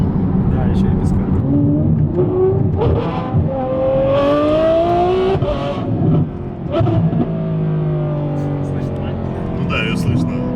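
A diesel-swapped BMW M5 running with no catalytic converter revs through its open exhaust, the engine note climbing and falling repeatedly, loud and close, while people talk over it throughout.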